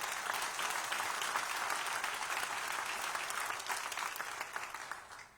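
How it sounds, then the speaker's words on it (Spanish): A church congregation applauds during a Spanish-language sermon. The clapping is loud, dense and continuous, with a faint crowd murmur, and fades slightly at the end. "Denle un aplauso al Señor."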